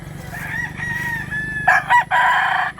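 A rooster at a busy chicken market in Mantalungon, Cebu crows once, close and loud, a long drawn-out call followed by a choppier ending over a low background hum.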